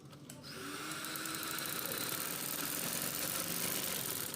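A sewing machine runs steadily, stitching a straight seam along a shalwar, its continuous mechanical whir humming close and even for several seconds without any talk.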